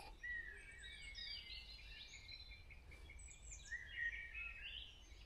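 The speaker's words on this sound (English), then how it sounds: "Just enjoying the last few moments of birdsong." Morning birdsong at a campsite, several birds chirping and trilling off and on at a distance, faint and airy over a soft background hiss with no voices.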